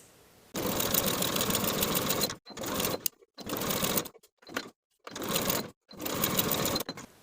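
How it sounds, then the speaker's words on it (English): A sewing machine sews romper seams with a half-inch seam allowance in a long run followed by several shorter bursts with brief silent gaps, close and clear, without speech. "Sew these seams with a 1/2 inch seam allowance"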